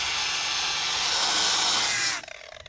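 A grinder scours body filler off a 1969 Dodge Charger panel in a loud, steady, close abrasive whine that stops abruptly near the end, leaving a brief rattle.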